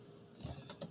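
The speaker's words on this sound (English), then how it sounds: "so if I start typing," Three quick keystrokes on a computer keyboard, close and soft, clicking in a brief irregular burst over faint room hiss.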